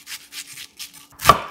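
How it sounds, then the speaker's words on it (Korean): A knife cuts into a quarter onion on a cutting board in a quick series of four or five crisp, close taps, ending in one sharper, louder chop. "양파 4분의 1길을 칼집 여러 번 넣고"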